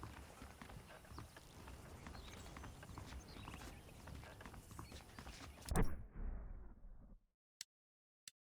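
Horse hooves clip-clop at a steady pace in the Western game Red Dead Redemption, set over ambient game sound and creaking before cutting abruptly to near silence with a couple of short clicks at the end.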